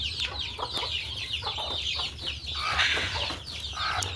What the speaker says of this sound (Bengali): এখানে আছে 7টা বাচ্চা আর একটা মুরগি সহকারে